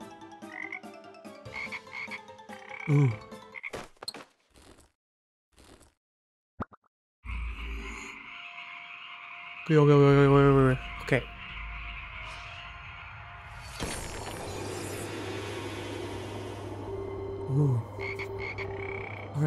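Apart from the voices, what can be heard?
frogs croaking in the video game Guardian Tales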